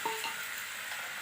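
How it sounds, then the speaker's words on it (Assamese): Black gram lentils are stirred into duck meat frying in oil for a traditional Assamese dish. A soft, steady sizzle sits under a brief scrape of stirring, faint and with no talking. "এতিয়া মই মাহৰ দাইলখিনি দি দিম।"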